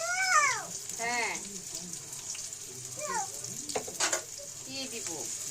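Garlic and then onion sizzle in hot oil for a dish of dried fish with taro stolons, with a steady frying hiss, stirring and a speaking voice over it throughout.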